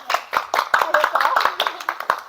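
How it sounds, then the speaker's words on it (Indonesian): A group claps for the winning team at a collaborative session, with several distinct sharp hand claps at an uneven pace, close by and partly overlapping with chatter. "sekali lagi tepuk tangan untuk yang menang"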